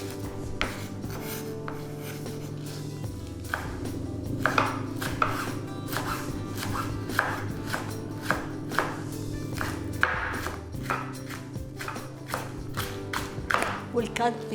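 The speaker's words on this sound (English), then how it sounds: "We'll cut the spring onion all the way." Knife chopping spring onion on a cutting board while making tabbouleh, a steady run of sharp, evenly spaced taps that quickens in places, close and clear over a low background hum.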